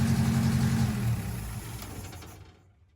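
A UAZ 2206 van engine, running for the first time after years of disuse with no cooling and a poorly tuned carburetor, idles with a rough low rumble, then dies away to silence.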